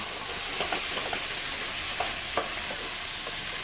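A ladle of stock hits rice in a hot pan and sizzles steadily close by, with soft scraping clicks from stirring scattered through the hiss.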